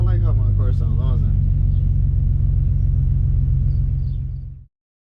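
Deep, steady exhaust drone from an Infiniti Q50 fitted with long tube headers, heard from inside the cabin with a voice talking over the first second before the sound cuts off.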